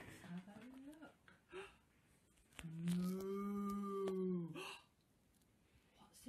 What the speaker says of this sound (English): Says moo. I've got a cow.